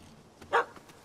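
A dog gives one short bark in The Witcher 3: Hearts of Stone video game. It comes at a moderate distance over faint ambient game background.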